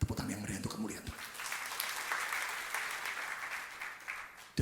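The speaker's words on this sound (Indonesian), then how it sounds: "Tepuk tangan yang meriah untuk kemuliaan Tuhan." A church congregation claps steadily in a broad, continuous wash of applause, with a voice briefly audible at the start.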